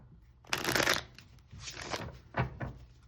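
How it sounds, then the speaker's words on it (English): Cards are riffled and shuffled up close in a few brisk bursts, the first the longest, with no voices. "We're going to go ahead and shuffle."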